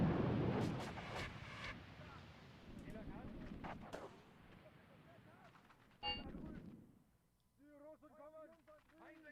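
Artillery and gunfire booming from a Graviteam Tactics: Mius Front battle, with dense, rumbling blasts and crackling shots over the first six seconds before fading; voices talk over the later part.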